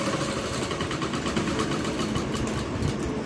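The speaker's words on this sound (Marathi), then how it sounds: "आणि याच्यावरती शिलाई मारून घ्यायची" A sewing machine stitches a joint in a thin fabric strip, running with a fast, even mechanical whir and rapid needle ticking, close and continuous.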